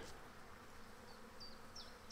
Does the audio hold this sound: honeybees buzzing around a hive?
yes